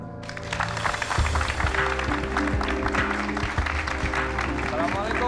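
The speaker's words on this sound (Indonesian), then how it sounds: "semuanya boleh kita berikan tepuk tangan untuk Ustadz Danu" A crowd claps in welcome for a religious teacher at an indoor gathering, a dense clatter of hands lasting several seconds under a steady background tone.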